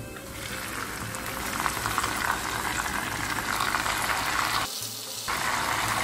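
Tomatoes frying in a pan for chicken kabsa, a steady close sizzle with bubbling, dipping briefly near the end before resuming.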